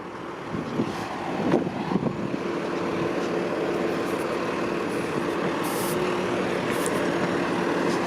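Busy traffic on Wilson Avenue in Toronto's Downsview neighbourhood, North York: a steady, loud street rumble of passing cars and trucks, with a heavier vehicle surging by early on and a constant engine drone throughout.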